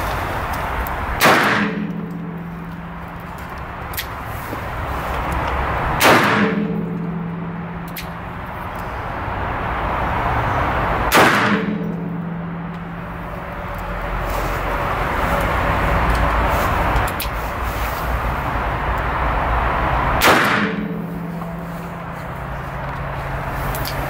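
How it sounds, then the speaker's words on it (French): Four sharp blank shots from a Spanish 8.92 service revolver loaded with black powder blanks, fired at roughly five-second intervals, each a loud crack with a brief ringing tail over steady outdoor background noise. "Donc on va essayer les munitions à blanc à courte portée."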